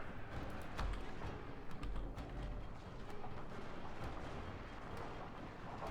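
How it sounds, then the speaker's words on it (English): A volley of matchlock gunfire from troops in Total War Shogun 2, a series of sharp cracks and booming shots rolling over a dense battle rumble. "Okay, my troops are opening fire."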